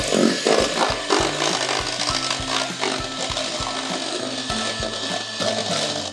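Cream cheese batter for a baked strawberry cheesecake is beaten with a mixer, giving a steady, loud, continuous whirring with rhythmic knocking throughout.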